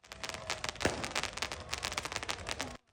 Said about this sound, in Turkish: Binlerce taraftarın katıldığı kutlamalarda sokaklar meşale ve havai fişeklerle aydınlandı